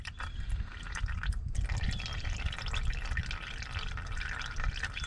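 Transmission fluid draining from a 2006 Honda Civic Si into a catch pan, a steady close liquid trickle and splatter with dripping layered over continuous low rumble, no talking.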